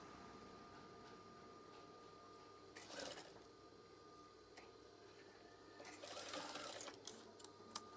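A sewing machine stitches curtain fabric with a quiet, steady hum, speeding into two short louder bursts of rapid needle clatter partway through, with no talking.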